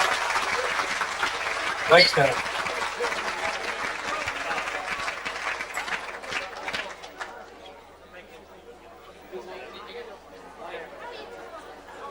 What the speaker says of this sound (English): I really think you should give him a big round of applause for this